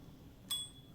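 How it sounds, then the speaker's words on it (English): A bicycle bell rings once in the video game Alone in the Dark, a bright metallic ding that rings on briefly over a low background hum. "Just ring the bell a little bit."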